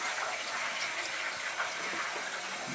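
Water gushing from the purge valve of a hot water heating system into a bucket, a steady close rushing flow with faint gurgles, constant and unbroken with no voices.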